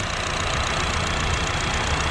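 A Honda Jazz car engine idling steadily, a dense even rumble that holds constant throughout at close range.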